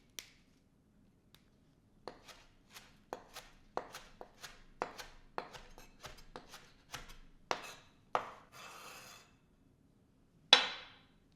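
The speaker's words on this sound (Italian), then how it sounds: "Un mazzetto di prezzemolo fresco, tritato finemente." A bunch of fresh parsley being finely chopped with a knife on a board: a quiet, uneven series of crisp taps, closer together in the middle, with a brief scraping sweep near the end.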